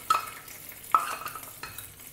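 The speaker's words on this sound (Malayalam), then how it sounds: "അപ്പോൾ ഈ കടു വറുത്തത് ഞാൻ ഈ പുളിശ്ശേരി ഒഴിക്കുകയാണേ." Fried mustard seed tempering poured into Kerala-style pineapple pulissery, two short bursts of sizzle and spoon clatter a second apart, then a quieter fading hiss.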